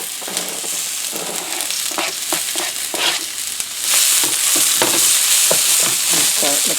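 Thinly sliced Hatch chilies and onions are stirred into a hot frying pan for a breakfast eggs and potatoes dish, with repeated scraping strokes over a sizzle that grows louder and brighter halfway through.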